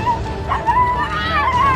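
A dog yelps and whimpers in distress while being rescued from a huge snake, giving short, close, high cries.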